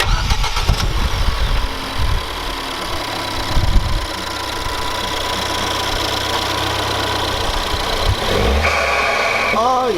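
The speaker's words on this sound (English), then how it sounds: "Right, let's start the car up." A car engine cranks and catches after a couple of seconds of starter churn and sputters, then settles into a steady, loud close idle; a voice speaks briefly near the start.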